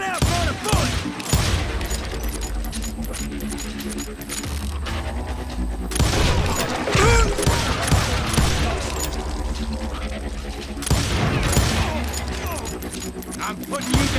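Gunfire from a Western shootout in the video game Call of Juarez: Gunslinger, with repeated loud shots and blasts over a dense, steady mix of game effects and music, continuous throughout.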